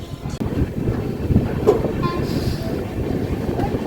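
Vasco da Gama–Velankanni Express pulling away after a loco reversal, a steady broadband rumble of rolling stock with faint wheel clatter, heard close and continuous.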